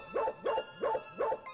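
Four evenly spaced dog barks in the game Foreign Creature 2, in quick succession, clear and close, with no other sounds between them.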